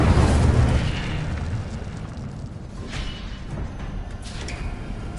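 Incendio fire spell cast in Hogwarts Legacy, a loud booming burst of flame that opens strongly and then settles into a steady rushing, crackling roar for several seconds.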